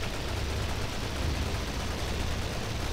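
A zeppelin strafes the ground in Toy Soldiers, its gunfire a dense, unbroken roar of rapid shots that holds at a steady, loud level for the whole stretch.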